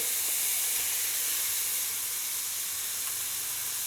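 Butter melts and sizzles in a pan of sautéing onions, giving a loud, steady hiss that fills the whole stretch with no talk.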